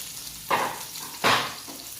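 Onions dropped into a hot pan while cooking lumpia'ng gulay, two loud bursts of sizzling that flare and taper off close by, with a faint softer hiss between them.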